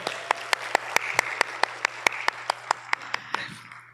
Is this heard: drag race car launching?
no